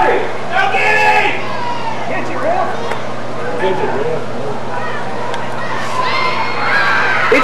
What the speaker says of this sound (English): Big crowd, baby. Big crowd.